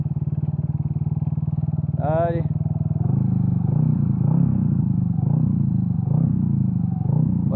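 A 125cc turbo scooter engine at 10 psi boost runs steadily, then rises to a rougher, louder drone. Someone speaks briefly over the running engine.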